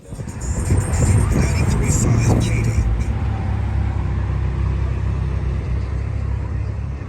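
Low, steady rumble of a Mitsubishi Evo 8 idling at a car show, loud and close, with crowd noise and scattered clatter over it in the first few seconds.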